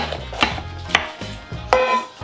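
A knife chops bell peppers on a board, four distinct, fairly loud cutting knocks at a relaxed uneven pace, with no talking.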